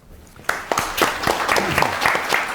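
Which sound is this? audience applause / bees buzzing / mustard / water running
audience applause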